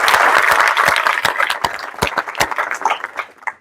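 A crowd claps loudly and steadily, the applause thinning into scattered individual claps before fading out near the end.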